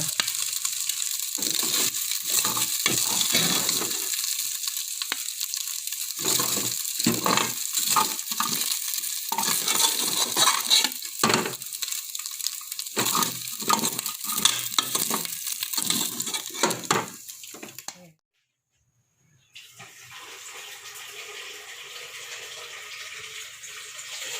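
Ingredients are sautéed in a pan for sopas, with loud continuous sizzling and frying broken by repeated scraping stirs, close up. The sizzle cuts out briefly near the end, then a softer, steadier hiss returns.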